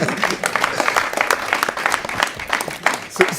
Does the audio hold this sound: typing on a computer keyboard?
no